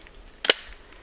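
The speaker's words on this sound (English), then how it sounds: "We'll shoot both one right after the other, and we'll see what the reaction is." A single sharp .410 shotgun blast fired at canned food downrange, one loud crack with a quick fade and no talking.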